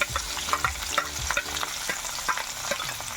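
Crushed garlic and shallots sautéing in a pan for a vanpayar dish, a crackling sizzle broken by a quick run of rhythmic spatula scrapes and taps, close and fairly loud.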